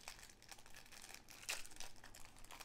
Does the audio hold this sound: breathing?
no